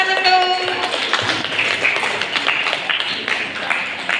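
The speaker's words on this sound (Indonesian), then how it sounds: "Baik, tepuk tangan" A burst of clapping from a small group at a children's storytelling competition, brisk and fairly close, mixed with a brief tonal chime at the start.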